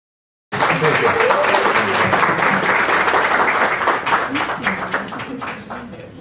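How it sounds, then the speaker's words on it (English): Audience applause at a book launch: clapping starts abruptly and holds steady for about four seconds, with some voices mixed in, then tapers off toward the end. "So can we give him a round of applause?"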